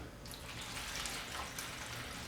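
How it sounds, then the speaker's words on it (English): Water poured into a seedling tray for bottom watering makes a steady, close splashing and trickling wash that continues without a break for a couple of seconds. "pour the water right in there"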